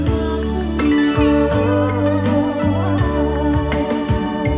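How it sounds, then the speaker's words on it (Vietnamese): Music from a CD spinning in a Bose 3000 player, a full song with steady bass and layered harmonics filling the room continuously at a moderately loud level, with no talking over it. "Đây là âm thanh của CD."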